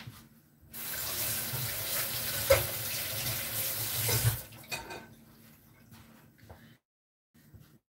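Tap water pours steadily into a kitchen sink while organic beetroot is washed, with a few light knocks against the basin; the flow stops and faint handling noises follow in near silence.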